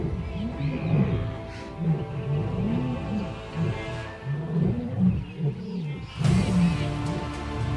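Lions on the African savanna give a series of deep, rhythmic grunting roars, repeated in bursts over several seconds, loud and fairly close with no voices.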